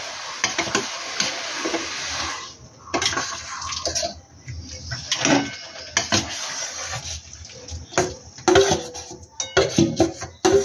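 Jujubes being stirred with a utensil into syrup made from rasgulla juice for a sour pickle, giving wet sloshing and scraping against the pot in uneven bursts, close and fairly loud, with no talk.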